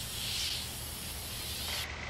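Steady spray painting hiss inside a ship's ballast tank, a continuous broad airy rush at moderate level that thins out near the end.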